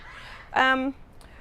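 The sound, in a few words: blue-billed curassow calling while protecting her chick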